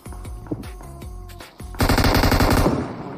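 Rapid automatic gunfire in a battle royale shooter, sparse shots at first then a loud, dense sustained burst of fire up close, with no talk over it.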